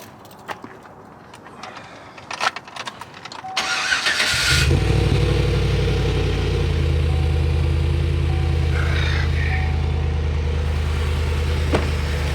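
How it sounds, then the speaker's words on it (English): An old truck cranks a few times, then its engine catches with a loud surge at camp. It settles into a steady, rough, rumbling idle that sounds close by and continues with no talk. "Let's get this old truck started up."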